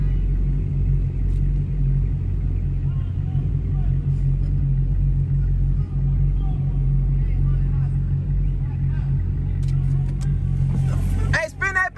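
In traffic beside a 2022 Dodge Challenger Hellcat Redeye, a car's engine gives a deep, continuous rumble that stays loud and steady throughout, with people talking over it.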